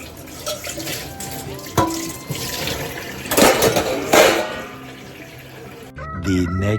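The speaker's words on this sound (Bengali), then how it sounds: "এটা এখন বাসন টাসন মাজি" Dishes being washed under a running kitchen tap, with steady water flow, clinks and scrapes of utensils close by, ending in a brief louder splash.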